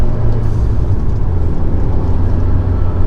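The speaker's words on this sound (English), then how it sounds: "we are on the first drive in the full-blown wide-body fender flare kit" An Abarth 124 widebody on 275 tires drives along with a loud, steady low engine rumble and road drone, close inside the cabin, and no voices.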